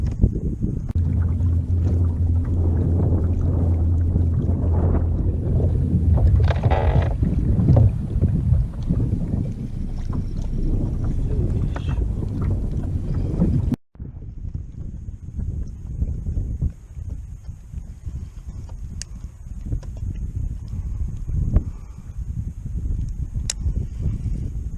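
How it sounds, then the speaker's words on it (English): Wind blows hard across a lake on a cold day out bass fishing, a loud constant rumbling buffet against the microphone that briefly cuts out midway before resuming. "Wind's blowing."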